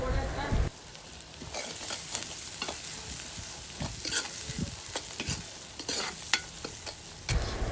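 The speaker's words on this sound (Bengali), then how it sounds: "ভালো করে এটাকে নেড়ে নেব এবার আমরা ধনে বাতা দিয়ে দিলাম" Egg posto curry cooking in a frying pan as coriander paste is stirred in, with a spatula scraping and clacking repeatedly over a moderate oily sizzle.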